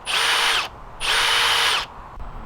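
Two close bursts from a Milwaukee M18 Fuel Surge hydraulic impact driver, a high whirring drone with a smooth, muted hammering, separated by a short pause.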